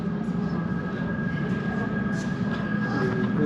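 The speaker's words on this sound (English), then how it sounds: "We got a train for Abbey Wood coming in" An Elizabeth Line train bound for Abbey Wood pulls into an underground station with a steady, loud rumble and a faint whine running throughout, with no voices.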